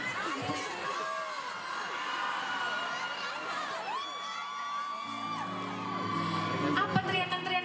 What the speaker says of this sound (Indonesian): Apa teriakan-teriakan apa itu? Teriakan wanita-wanita muda ya?